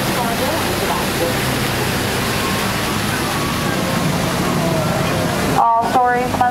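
Steady rushing water from a waterfall beside the Storybook Land canal boat ride at Disneyland, heard up close as a continuous broad hiss, with a brief burst of other sounds near the end.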